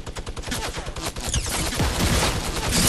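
Rapid bursts of gunfire in the battle royale game Fortnite, loud and continuous shots rattling throughout with no speech over them.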